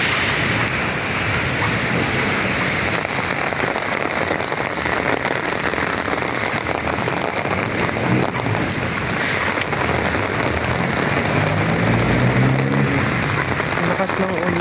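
Heavy rain pours down in Makati City, a dense, continuous loud hiss of drops on surfaces with faint traffic underneath throughout.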